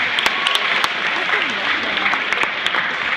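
Audience at an after-prom hypnosis show claps steadily for the hypnotized volunteers, a dense wash of applause with a few sharp louder claps, talk faintly under it.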